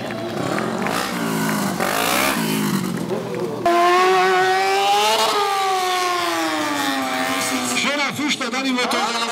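A stunt motorcycle at a motor show in Szeged, its engine revving hard through rising and falling pitch sweeps, loud and close, with an excited commentator talking over it.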